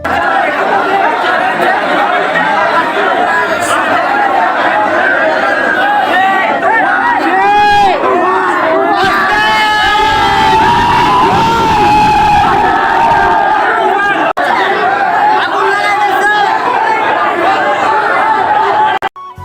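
A dense crowd packed outside a Bangladeshi cinema hall waiting for tickets to the Shakib Khan film Toofan, loud continuous chatter, shouting and cheering with swelling bursts of voices throughout.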